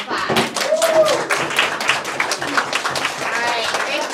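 Clapping from a small group of participants at the close of a school mock trial, a few seconds of uneven, fairly close handclaps with some voices mixed in.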